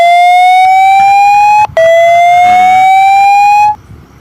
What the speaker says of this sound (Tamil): ஒரு பீப் சவுண்ட் மாதிரி சவுண்டு வந்து 30 செகண்ட்ஸ் வந்து கேட்கும்